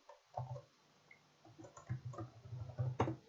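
Computer mouse clicks and keyboard typing while working in a code editor, small quiet taps in an irregular run that grows busier toward the end, with no talking.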